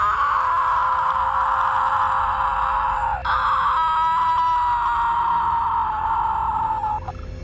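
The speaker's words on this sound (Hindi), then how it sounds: "उसके छिड़कते ही पेड़ से चुड़ैल की चिल्लाने की आवाजें आने लगती है।" A cartoon witch screams from inside a tree in a long, loud, sustained wail that keeps a steady pitch. It breaks briefly partway through and then carries on almost to the end.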